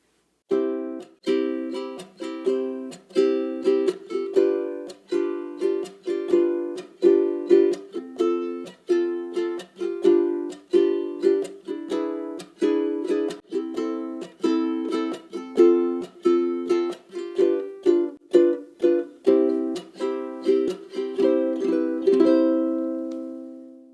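Fast ukulele chuck strumming, sped up, with percussive muted chucks in a quick, steady rhythm, played close and alone, ending on a ringing strum.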